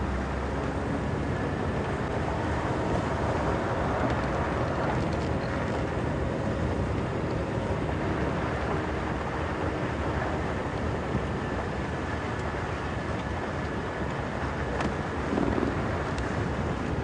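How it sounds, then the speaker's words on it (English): Wind buffets the microphone during an evening safari drive in an open vehicle at Djuma and Arathusa, a constant loud broadband roar with low rumble, no pauses, no voices. "The wind really is picking up"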